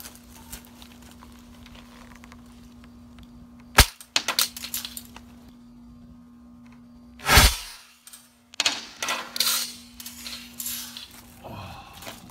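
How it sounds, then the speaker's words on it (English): A steel ball bearing fired from a slingshot strikes a pair of shatterproof eyeglasses with a sharp, loud crack near 7.4 seconds, preceded by a snapping release and followed by clattering debris, with a steady hum underneath. "All right, we have a steel ball bearing here. So here we go, let's whack it."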